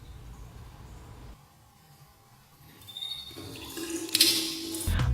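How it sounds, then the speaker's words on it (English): Bathroom sink tap running water onto a toothbrush, a quiet hiss that builds into louder splashing and gurgling toward the end, with no talk. "First, I wet my toothbrush."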